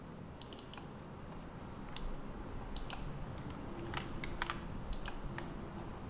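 Keyboard typing into a Word document: a run of quick, crisp key clicks in short bursts with brief pauses, close and fairly quiet over a soft steady background hiss.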